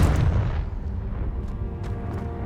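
Confringo explosive spell blast in Hogwarts Legacy, heard as a loud booming burst at the start that rolls off into a rumbling decay, with a few fainter impacts following.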